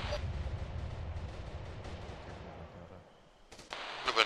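Distant gunfire rumbles through an Arma 3 battle, a low steady roll of shots that fades, then breaks into a few sharp, louder cracks near the end.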